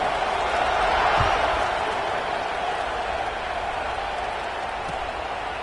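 A stadium crowd roars at the kickoff of Clemson against Alabama, a broad sustained wash of cheering that swells briefly and then holds steady, distant and dense.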